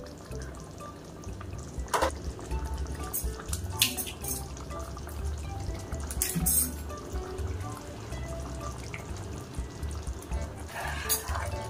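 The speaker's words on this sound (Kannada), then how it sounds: "ನೋಡಿ ಎಷ್ಟು ಕುದೀತಾ ಇದೆ ಅಲ್ವಾ" Fish curry bubbling in a pot, soft irregular liquid plops and drips at close range with a few brief clinks of utensils over a low kitchen background.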